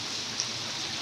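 Heavy rain pours during a typhoon with flooding, a dense, steady hiss of falling water close and loud, without voices.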